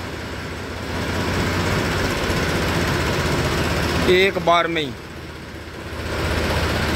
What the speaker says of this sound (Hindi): दो बार में, तीसरी बार में ट्रैक्टर मोड़ लिया है आराम से